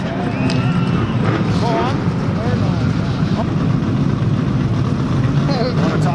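Race truck engines fire up and settle into a rough, loud idle, a dense low rumble with several motors overlapping, while an announcer talks over them.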